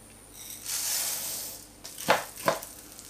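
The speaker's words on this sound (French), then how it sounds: "maintenant je vais y faire revenir mon riz." Rice fries for paella in a hot wok, a bright close sizzle that swells and fades, followed by two quick scraping stirs against the pan, with no talk.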